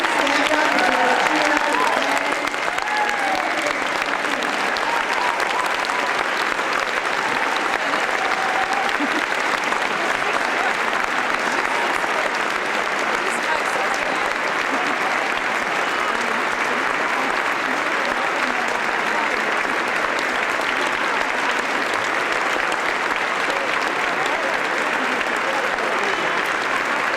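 Crowd at a presidential campaign rally for Dennis Kucinich in Eugene, Oregon standing, cheering and applauding, a long sustained wall of loud clapping with shouts and voices mixed in throughout.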